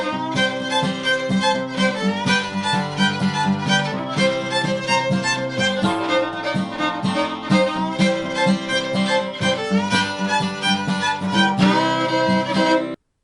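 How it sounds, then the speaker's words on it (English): Fiddle playing a shuffle rhythm on the B part of the bluegrass tune Back Up & Push, bright and continuous with a steady bowed pulse, close and loud with no talking, about thirteen seconds. "well, on the fiddle, it becomes a really nice shuffle"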